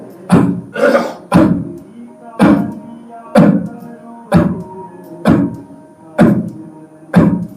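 People cough in a yoga session, about nine sharp, forceful coughs at a steady rhythm roughly once per second, close and loud with a brief hollow tail after each.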